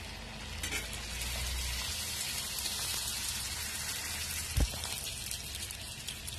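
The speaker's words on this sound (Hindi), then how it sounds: "अब हम गोलगप्पों को फ्राई करेंगे।" Golgappa puris fry in hot oil with a steady, even sizzle and crackle throughout, plus one brief low thump partway through.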